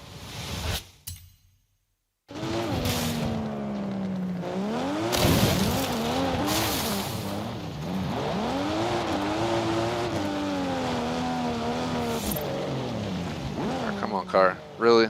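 Engine roar and tire squeal from a car in the racing game Forza Horizon 5 on a street circuit, continuous and loud, with rising and falling engine pitch and a brief silent gap near the start, under an overlaid voice.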